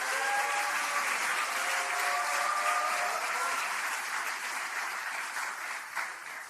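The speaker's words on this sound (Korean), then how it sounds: "이재명 당대표님께 다시 한번 뜨거운 응원의 박수 부탁드리겠습니다" Sustained applause from an audience at a Democratic Party joint meeting in Korea, steady and dense throughout, thinning slightly near the end.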